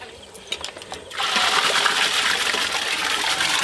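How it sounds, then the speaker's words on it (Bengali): Washed Bashkathi rice poured into a pot of hot water, a sudden rushing, splashing pour that starts after a second of quieter kitchen noise and continues as a steady gush. "বলো জল গরম হয়ে গেছে, ধুয়ে রাখা চাল দিয়ে দেবো এবার।"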